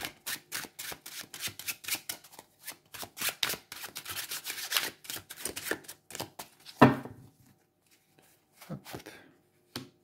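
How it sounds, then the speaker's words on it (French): Tarot cards being shuffled and drawn by hand, a quick series of close, crisp flicking and slapping snaps in a steady rhythm, then a sharper card slap and scattered softer taps, with a brief spoken word. "Je vais tirer toutes les cartes au début"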